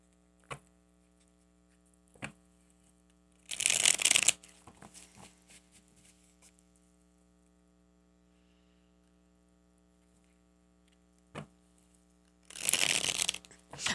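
Tarot cards being shuffled in two short, crisp riffling bursts separated by quiet, with a few soft taps and faint steady mains hum between them.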